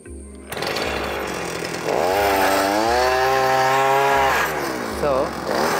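The small engine of an arecanut tree climbing bike starts up and runs loud and steady, its pitch rising and wavering as it revs, with some talking mixed in.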